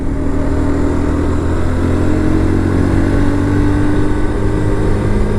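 Steady engine drone and wind rush from a Morbidelli T125X motorcycle while riding through bends, a constant loud hum with no pauses and no talking.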